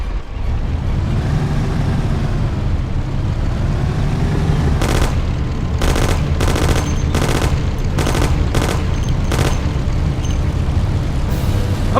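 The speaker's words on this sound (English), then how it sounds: "Take my Thompson. You and Sam shoot them." Bursts of Thompson submachine gun fire in the Mafia video game, several short rapid volleys starting midway over a constant loud rumble of a car engine, close and harsh.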